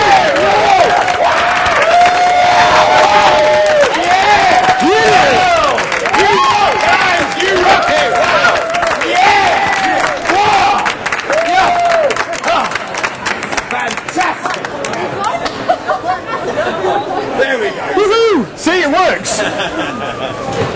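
A large audience at a workplace learning event claps together, building toward cheering and roaring, a dense continuous wall of crowd noise with talk mixed in throughout.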